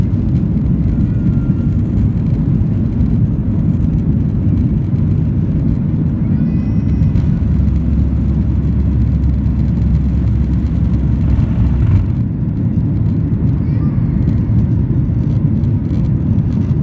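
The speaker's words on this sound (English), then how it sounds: "I did manage to record the plane taking off from Sylhet" A loud, steady low engine roar of an airplane taking off from Sylhet, Bangladesh builds and holds throughout, with a deep rumbling drone and no voices.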